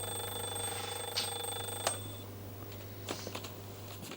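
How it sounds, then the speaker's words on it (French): A bedside alarm clock rings with a steady, high-pitched electronic tone for about two seconds, then stops, leaving faint room noise and a few soft clicks. "Il dort peut-être si profondément qu'il n'entend pas le réveil qui sonne."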